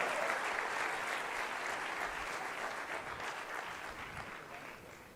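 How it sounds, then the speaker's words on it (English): A large audience at an alumni homecoming conference applauds in a dense, steady wash of clapping that stays loud and then tapers slightly toward the end, with faint voices mixed in. "Let's give him a big round of applause"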